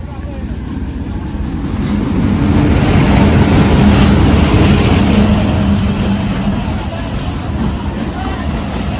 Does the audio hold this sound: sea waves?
no